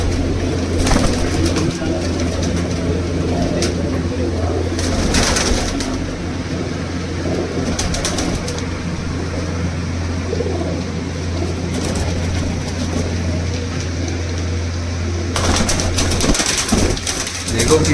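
Soft, low coos of teddy pigeons repeat steadily over a constant low hum, with a few brief bursts of hissing noise now and then.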